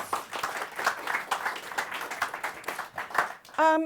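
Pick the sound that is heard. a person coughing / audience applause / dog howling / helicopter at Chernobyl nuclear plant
audience applause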